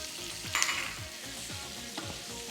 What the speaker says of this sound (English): So we're going to saute this for about 10 minutes or until they're nice and translucent